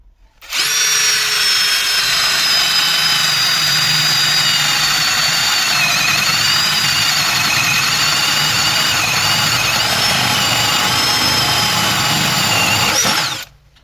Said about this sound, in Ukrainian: друге сверло пробуємо сверлити брусок